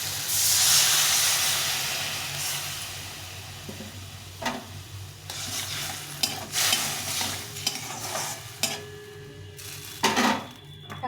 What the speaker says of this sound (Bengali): এখন একটু জল দিয়ে দেবো